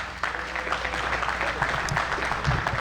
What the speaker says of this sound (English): let's have a big round of applause, not just for our 2 finalists, but for all the juniors playing here in Boston